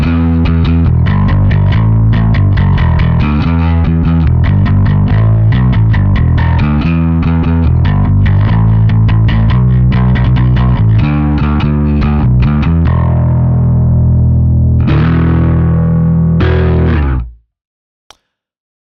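Bass guitar driven through a Rat distortion pedal, playing a loud, gritty riff of rapid repeated notes that runs steadily for most of the clip, then cuts off abruptly near the end.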